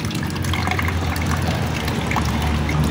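Water running and splashing steadily as mosquito larvae are rinsed, a continuous close trickling and pouring wash with small drips and gurgles throughout, fairly loud and without speech.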